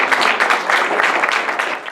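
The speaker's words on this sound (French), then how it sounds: "qu'on les applaudisse très fort parce qu'ils ont fait un travail remarquable" An audience applauds the FameLab 2015 regional final candidates at an awards ceremony in Villeneuve d'Ascq. The clapping is steady, dense and close, filling the moment without pause.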